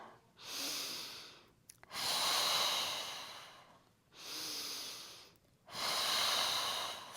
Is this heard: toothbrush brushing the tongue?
no